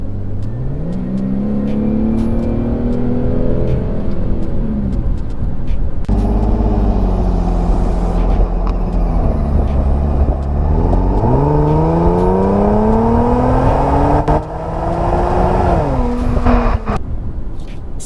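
An Infiniti G37XS with a 3.7-liter engine accelerates hard, its loud engine note climbing through several gear pulls with brief dips at each shift, steady and close for the whole stretch.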